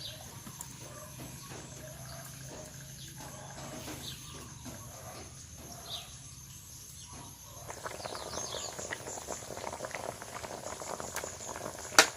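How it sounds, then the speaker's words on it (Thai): Water for a watery curry comes to a boil in a pot on a charcoal stove, a faint, steady bubbling and popping that grows busier and louder toward the end. "ก็เริ่มเดือดแล้วนะคะ"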